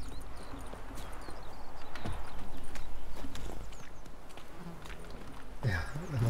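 Horse hooves clip-clopping in the video game The Witcher 3, a steady walking rhythm of close hoofbeats on rainy ground, with a snort toward the end.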